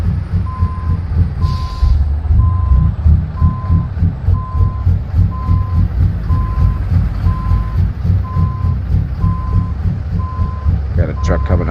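Reversing beeps from a truck in American Truck Simulator, a steady train of evenly spaced beeps running throughout over a loud, rumbling diesel engine drone, with a brief air hiss near the start.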